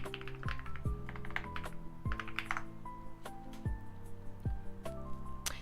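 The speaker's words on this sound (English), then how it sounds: "I don't know if you guys can hear the clicking." Quick bursts of clicking from typing on a computer keyboard, close and fairly loud, with short pauses between runs of keystrokes, over a faint steady background tone.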